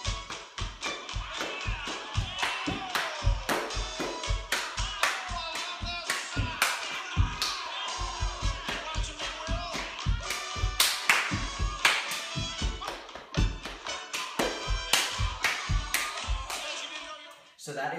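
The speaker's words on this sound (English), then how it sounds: "clap, clap, stomp, stomp, clap, clap, stomp, stomp, hit, hit, stomp, hit, hit, clap, clap, chug, clap, chug, clap, down, up." Rhythmic clapping and foot stomping for the Alabama Stomp line dance, in sharp repeating patterns of claps and stomps, close and distinct, with a voice calling out the steps throughout.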